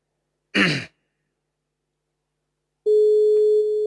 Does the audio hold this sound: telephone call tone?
yes